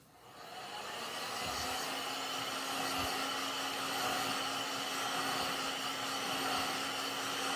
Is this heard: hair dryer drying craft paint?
yes